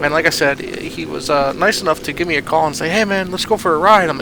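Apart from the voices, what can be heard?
None of the usual background noises is heard.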